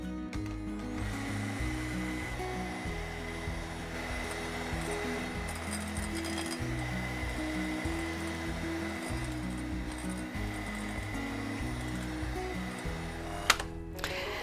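Electric hand mixer beating sponge cake batter as sugar trickles in, a steady whirring motor with a pulsing, chopping rhythm as the beaters circle the bowl, close and continuous.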